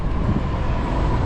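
A Medellín metro train rolls past overhead with a loud, close, steady rumble and rail roar that fills the whole moment, no talking over it.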